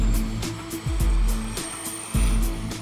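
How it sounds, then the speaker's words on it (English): Steady drone of an oil spill surveillance aircraft in flight, carrying a continuous tonal hum with a rhythmic pulsing throb and a faint high whine above it, loud and close with no talking. "this is about the most sophisticated aircraft we could hope to get our hands on"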